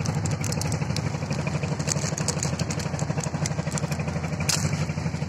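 A small trawler boat's engine chugs steadily with a clattering, throbbing drone as it travels along the Pasur River toward the Sundarbans, close and constant throughout.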